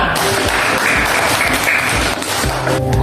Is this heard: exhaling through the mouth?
no